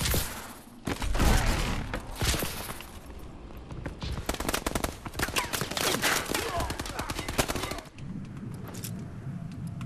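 Rapid bursts of automatic gunfire and sharp shots in Call of Duty Advanced Warfare, dense clusters of firing crackling through the middle with brief pauses, fairly close and loud.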